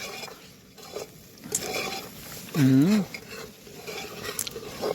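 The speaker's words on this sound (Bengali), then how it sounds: "এখানে পেঁয়াজ, লঙ্কা, আদা, রসুন এসব কষানো হচ্ছে" Onion, chilli, ginger and garlic are fried and stirred in a pan outdoors, with a low sizzle, utensil scrapes and clinks. A voice briefly rises in a wavering sung or called tone partway through, and background chatter continues throughout.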